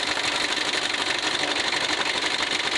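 A Mitsubishi L300 van engine idles steadily while warming up, a dense, even mechanical hum and rattle, continuous and fairly close, with no voices.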